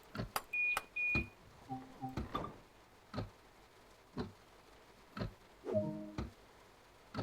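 Train doors lock on an Isle of Wight train in Train Sim World 2, marked by a string of sharp clicks and thunks, short electronic beeps and a brief stepped chime, all close and clear with no talk.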